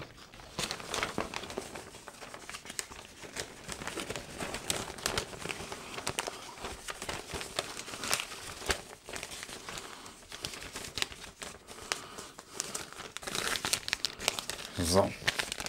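PS4 Pro/Slim vertical stand packaging being packed back up by hand, with continuous crinkling and rustling of plastic and paper close up in irregular bursts, while someone talks over it.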